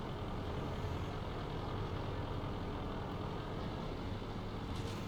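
A heavy tank's engine drives in World of Tanks, a loud, continuous low rumble and rattle holding steady throughout with no talk, ending in a brief hiss.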